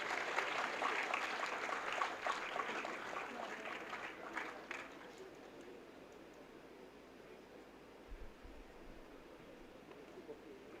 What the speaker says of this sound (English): I would like to request everyone in the audience to give a big round of applause.